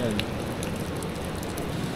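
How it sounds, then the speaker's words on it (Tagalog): Steady heavy rain pattering on surfaces at a beach in Mariveles, Bataan, a dense continuous wash of noise with a few brief voice sounds mixed in. "Tapos yung ulan, kanina pa to, hindi tumitigil."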